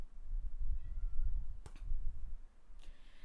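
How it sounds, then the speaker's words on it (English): A house cat named Dawn gives a couple of short, faint meows in a quiet room, heard alone over low background rumble. "Oh, Dawn is meowing."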